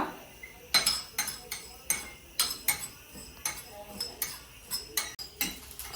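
Cumin, cinnamon and cloves dry roasting in a pan, heard as repeated sharp metallic clinks and scrapes of a spoon against the pan in an irregular rhythm, fairly quiet and close, with no talk.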